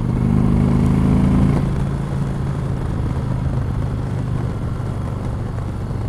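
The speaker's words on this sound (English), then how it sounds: "I don't think I've ever ridden a bike with a better exhaust note than this has." Indian Chieftain motorcycle exhaust note while riding, a steady low engine drone with a deeper throb for the first second and a half, then a continuous, fairly loud rumble blended with wind rush.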